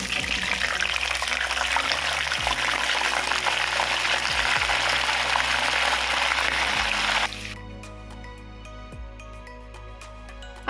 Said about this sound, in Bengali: এখন আমি কেটে নেওয়া আমড়াগুলো তেলের মধ্যে দিয়ে দিচ্ছি।